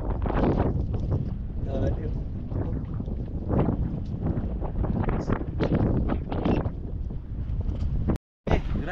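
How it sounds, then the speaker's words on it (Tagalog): Strong wind buffets the microphone on a boat at sea, a loud continuous roaring rumble with gusting swells, and voices talk faintly underneath, broken by a brief dropout near the end. "Mahangin po yan."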